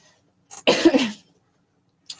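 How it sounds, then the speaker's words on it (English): A single harsh cough burst, close and fairly loud, followed by a short silence and a faint breathy sound at the end. "Sorry about my coughing."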